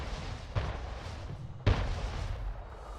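Two heavy cannon booms from Anno 1800 naval combat against a ship of the line, roughly a second apart, each a sharp blast with a rumbling tail over steady low battle noise.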